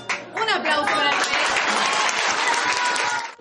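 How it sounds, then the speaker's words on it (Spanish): Audience applause at a school event swells after an announcer's voice, a dense, loud wash of clapping that holds steady with some talk under it. "Un aplauso para el"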